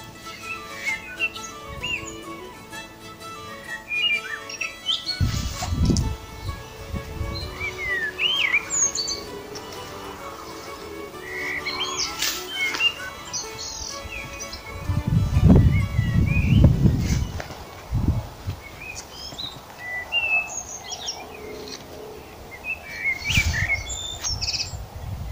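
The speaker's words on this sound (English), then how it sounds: "And always listen to the bird song." Birds sing and chirp among trees for a long stretch, with scattered tweets and calls near and far and some low rustling bursts in between.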